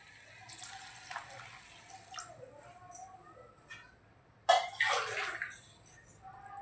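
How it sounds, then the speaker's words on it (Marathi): Water is poured into a pan of Malvani-style pea rice (vatana bhaat) in a pressure cooker, with a sudden loud splashing gush after a stretch of faint stirring and clinking. "दीड ग्लास आपण पाणी घालतोय"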